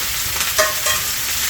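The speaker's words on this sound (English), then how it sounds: "So I'm just searing these real quick." Pork chops sear in a hot pan with a constant loud sizzle and hiss, a couple of brief metallic clinks from tongs cutting through close by.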